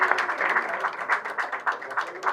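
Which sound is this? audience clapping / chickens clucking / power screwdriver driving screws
audience clapping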